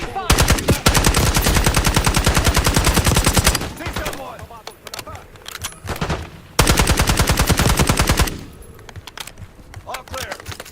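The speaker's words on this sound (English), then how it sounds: "Exchanging fire!" Automatic and rapid gunfire bursts in Call of Duty Black Ops 6 zombies mode, loud and close, two long sustained volleys separated by a quieter gap with scattered shots and a voice.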